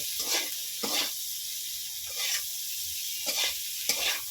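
Cauliflower stirred into a pot of masoor lentil dal, several separate hissing, scraping bursts from the stirring spoon with quieter gaps between, close and without talk.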